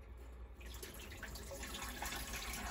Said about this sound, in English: So I'm just going to rinse them off a little bit.